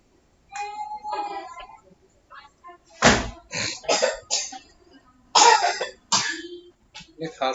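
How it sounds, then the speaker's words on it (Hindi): Several sharp, harsh coughs come in short bursts, close by, with brief pauses and some speech mixed in between. "ये खांसी आ रही है"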